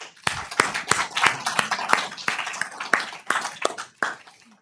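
An audience applauds to welcome guests at an international book forum, giving a brisk run of sharp, close handclaps in an uneven rhythm that gradually thins out toward the end.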